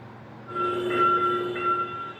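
A Gyeongui Line train enters a railway level crossing at night, where a city bus has stalled on the tracks. It sounds loud and close, with a sustained, tonal horn-like blare over a rumbling rail noise, and no voices are heard.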